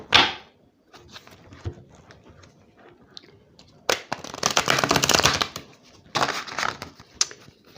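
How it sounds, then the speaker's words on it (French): Oracle cards shuffled and drawn during a tarot-style reading, with bursts of riffling and rustling card noise, a sharp snap at the start and loud continuous shuffling toward the end. "j'ai 4 oracles où on va tirer une carte dans chaque oracle"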